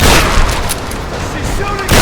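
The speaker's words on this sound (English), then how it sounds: "Shotgun blast." Shotgun blast in the video game Tomb Raider 2013, a loud booming report with the game's score and effects continuing under it, then another heavy burst at the end.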